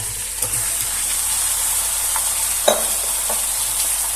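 Two kilograms of chicken fry with ginger garlic paste in a large pot, a loud continuous sizzle with occasional scraping stirs and one sharper clank from the spoon, without talk.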